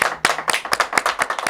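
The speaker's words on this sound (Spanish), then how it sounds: "¡Un fuerte aplauso!" Rhythmic, evenly spaced claps close to the listener, sounding like a small group clapping in unison at an interview event, about six sharp beats in a second and a half.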